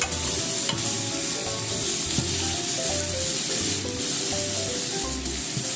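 Zucchini, tomato and egg stir-fry in a pan with a loud, continuous close sizzle, broken by the rhythmic scrape and tap of a spatula being stirred through, with no one speaking.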